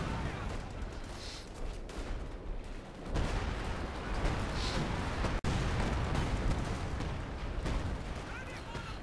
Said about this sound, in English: He used assault artillery on an area that he was already controlling.